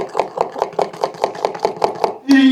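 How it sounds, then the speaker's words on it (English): Twice baked bacon cheddar ranch fries being stirred and mixed with a spoon, about a dozen regular scraping, squelching strokes in steady rhythm, close up, ending with a brief louder clatter. "I'm going to mix all this together."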